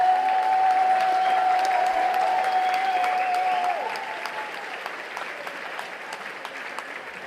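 Sustained audience applause for the group Héritage at a festive church congress evening, thick and continuous, with a faint held tone early on that fades out, then easing slightly softer toward the end.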